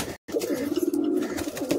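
Jack pigeons kept in a pair sale cage coo in a continuous low throbbing burble, close and steady, broken by one very short gap near the start.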